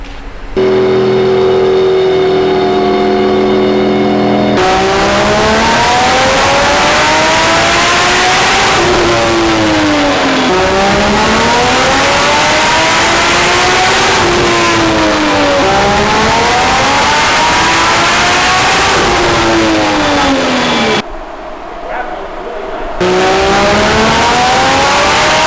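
A 1000 HP BMW E36 engine is revved repeatedly in loud, rising and falling bursts, each sweep climbing then dropping back. It idles briefly at the start and cuts out for a moment near the end.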